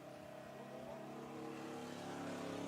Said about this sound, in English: when you hear those motorcycles go by on 38